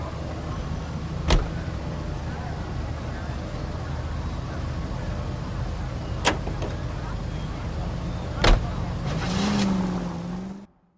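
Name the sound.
car driving in the video game L.A. Noire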